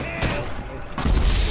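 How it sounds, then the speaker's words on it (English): Gunfire in GTA 5 Online during a sawmill deathmatch, two sharp close shots about three-quarters of a second apart, the second followed by a heavier thumping burst, with no speech. "I can hear those fucking guys shooting at me"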